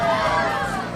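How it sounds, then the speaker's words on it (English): A Persona 5 game crowd cheering and shouting loudly, a dense sustained roar of many voices held for a moment. "They're already cheering"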